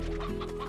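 Short burst of clucking from hens kept in a pen in the video game Slime Rancher, a soft murmuring cluck lasting under a second.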